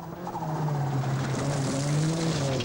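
Ford Sierra Cosworth rally car on a 1988 Scottish Rally stage, a loud sustained engine drone with rising and falling pitch, close and continuous over rough gravel noise.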